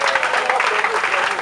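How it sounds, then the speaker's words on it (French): Applause at a civil wedding ceremony, a short burst of dense, steady clapping from the guests with voices mixed in underneath. "Applaudissez s'il vous plaît."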